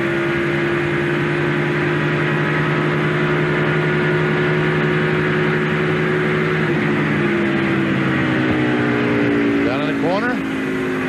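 Stock car engines racing at Pocono Raceway during a NASCAR Winston Cup race, a loud sustained droning roar that shifts pitch partway through, with a rising whine near the end.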